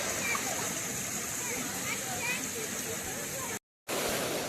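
Water rushes over a dam at a rural swimming spot, a steady broad splashing flow that holds constant, briefly cut silent near the end, with people talking faintly over it.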